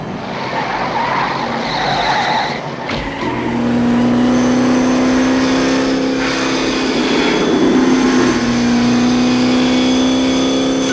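Car engine in Knight Rider (1983), the car driving across water, a loud steady roar with a rising whine and rushing wash, continuous and close throughout with no voices.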